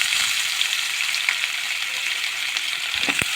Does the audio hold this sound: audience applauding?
no